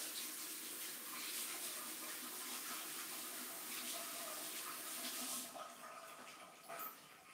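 Running tap water splashes steadily over fingers as chalk dust is rinsed off, a continuous broadband hiss that eases and turns more uneven toward the end.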